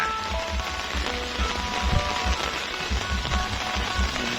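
Steady rain pours down in a dense, continuous hiss, with low rumbling gusts underneath, like wind-driven rain close by, in Ban Kao Ngio, Phon District, Khon Kaen, Thailand.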